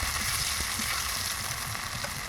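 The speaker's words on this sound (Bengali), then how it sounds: "ফ্রাই চলছে মাছ" A whole fish fries in hot oil, giving a steady, close hissing sizzle with scattered small pops and crackles and no voices.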